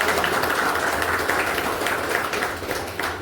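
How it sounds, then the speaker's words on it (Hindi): A crowd applauds at a company business presentation, the clapping loud, dense and continuous throughout before easing slightly toward the end. "एक जोरदार ताली होनी चाहिए"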